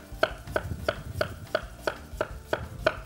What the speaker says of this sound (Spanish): cortáis por la mitad y de esa forma ya no se nos mueve la patata y podemos cortarla fácilmente